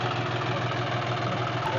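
John Deere 5310 tractor engine idling outdoors, a steady low diesel rumble that holds at an even level throughout with no talk over it.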